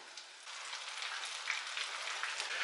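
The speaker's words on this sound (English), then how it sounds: "You want it to start frying, you know, seal that flavor in there, seal that crust on there." Chicken pieces sizzle steadily in a hot pan over medium heat, a continuous bright crackling hiss with fine spitting pops, close and fairly quiet, no voices.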